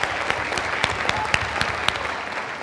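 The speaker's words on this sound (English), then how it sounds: "Let's give another round of applause for Christos." An audience at a school district state-of-the-schools event applauds with steady, moderately distant clapping, with a few sharper individual claps standing out from the wash of applause.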